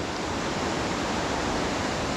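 Whitewater rapids rush down a river near Thrum Mill, a dense, steady roar of churning water heard from above, unbroken and fairly loud throughout.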